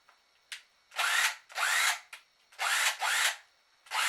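A Craftsman 20V cordless impact driver running free in a series of short bursts, some brief blips and some lasting about half a second, with clear silent gaps between them.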